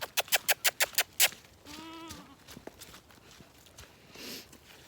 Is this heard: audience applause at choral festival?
no